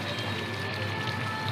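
Chicken kosha gravy bubbling steadily in a pan, a dense, continuous crackle of small bursting bubbles at a close, even level with no talk.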